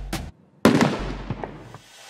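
Fireworks go off in two bursts: a short sharp crack, a brief pause, then a louder booming blast with crackling pops that trail off over the next second and a half.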